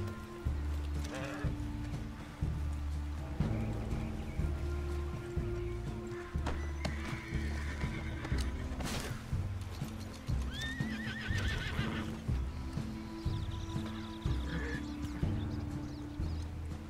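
In Red Dead Redemption II, rhythmic clip-clop of hooves runs throughout, with a horse neighing and whinnying several times and some bleat-like calls over a steady ambient background.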